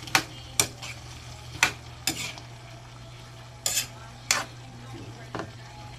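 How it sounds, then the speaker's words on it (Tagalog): Vegetables being stirred in a sautéing pan, a utensil scraping and clinking in about seven separate strokes over a faint steady sizzle, with no talk. "saka po natin haluin. Haluin po muna natin."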